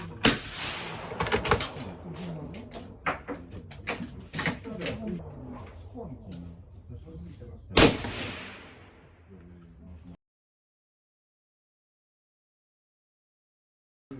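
Several sharp gunshots from a Franchi AllTerrain ring out among clanking mechanical noises, with one loud blast near the end before sudden silence.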